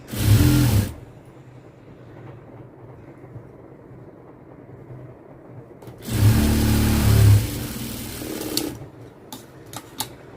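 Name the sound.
sewing machine stitching a blouse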